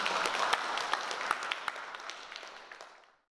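A gathering at Seoul National University welcomes a speaker with applause, a dense round of clapping with a few sharper near claps standing out, fading away and ending in silence.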